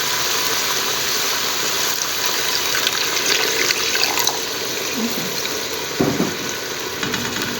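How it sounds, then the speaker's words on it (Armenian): Water pours into a cooking pot holding onion and tomato, a steady close splashing flow over a constant background hum, with a few knocks later on. "Մի քիչ ջուր լցնեմ։"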